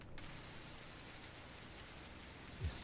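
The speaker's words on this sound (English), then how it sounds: "Crickets are part of ambient" Crickets chirp as a steady night ambience in the game Blind Descent, a faint continuous high trill running unbroken and alone behind low background hiss.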